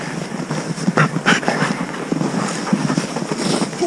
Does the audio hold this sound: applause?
no